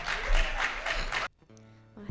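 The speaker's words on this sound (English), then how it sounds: "round of applause. Let's hear it." A live-venue audience applauds a singer-songwriter about to perform, giving a dense, steady wash of clapping that stops abruptly partway through, after which a faint tone and quiet room sound remain.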